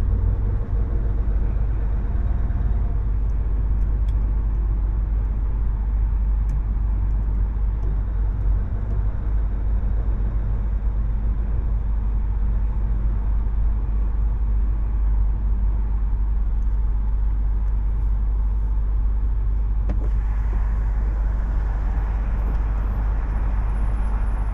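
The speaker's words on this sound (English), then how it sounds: "I'm stuck in traffic, as you can see" Congested road traffic with cars, buses and trucks, including race team trucks, forms a dense continuous low rumble of engines that stays steady and fairly loud throughout, with no speech.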